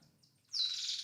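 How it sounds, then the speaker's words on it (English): A small bird gives a short, high, bright chirp that rises sharply at mid-clip, heard alone and fairly close against quiet background. "Go away, stupid bird."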